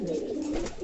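King pigeon cooing at close range: a low, throaty, rolling coo that swells and dips continuously through a brief moment, steady and fairly loud, with no other sounds competing.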